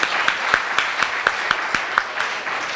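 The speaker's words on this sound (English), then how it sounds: "So we need to give her a round of applause." An audience at a meeting applauds, with dense, steady, evenly paced claps that hold at the same level for the whole stretch.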